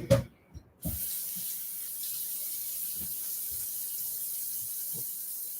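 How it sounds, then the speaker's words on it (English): After a few quiet knocks, a kitchen tap opens and water runs in a steady hiss into a sink as food is rinsed in a strainer, with occasional soft bumps and clatters under the flow. "I'm going to put this in this strainer and I'm going to rinse it out"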